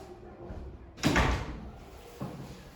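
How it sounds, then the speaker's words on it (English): A classroom door swings shut with a single solid thud and rattle, loud and close, followed by a softer knock a moment later in an otherwise quiet room. "could you please close the door?"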